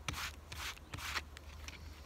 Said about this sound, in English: We're going to take and we're going to rub it.